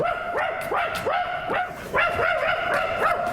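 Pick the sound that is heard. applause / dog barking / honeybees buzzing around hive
dog barking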